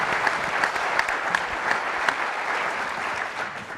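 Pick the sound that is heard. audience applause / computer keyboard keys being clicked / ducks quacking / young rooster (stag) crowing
audience applause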